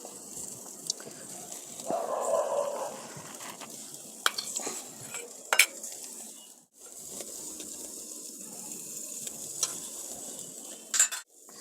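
Tandoori chicken frying in butter sizzles gently and steadily, broken by occasional clinks and scrapes of a utensil turning the pieces in the pan.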